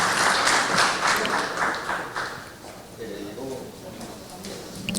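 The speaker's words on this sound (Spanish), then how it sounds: "con este aplauso lo despedimos y le deseamos el mejor de los éxitos al ingeniero Francisco Sagasti" Audience applause at a book presentation, a burst of clapping for about two and a half seconds that thins out, followed by a voice speaking.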